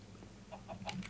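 A Minecraft chicken gives a few short clucks in quick succession, faint and close, with no talking over them.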